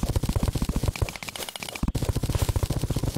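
Rapid irregular bangs of fireworks going off outside, a dense crackling barrage of sharp pops that runs almost without pause, with a brief lull in the middle.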